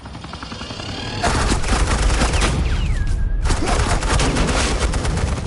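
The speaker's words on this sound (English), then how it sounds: "Suppressing fire." Sustained bursts of suppressing gunfire from a Batman: The Enemy Within shootout, dense and loud, with rapid overlapping shots that start abruptly and continue without pause.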